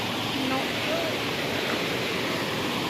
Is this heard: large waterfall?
yes